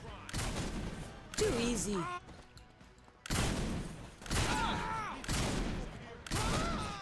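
Police open fire in the Saints Row 4 video game: repeated bursts of gunfire come in several separate volleys, loud and sharp, with a voice speaking briefly between them.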